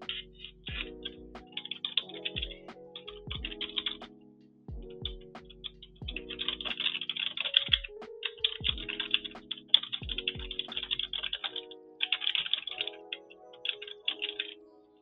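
Typing on a computer keyboard: bursts of quick, close clicking keystrokes with brief pauses and scattered louder key taps, no voices.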